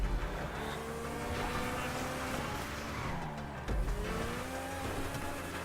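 A car in Grand Theft Auto 5 spins flat on the ground, its engine revving and tires squealing loudly, with a heavy thump partway through.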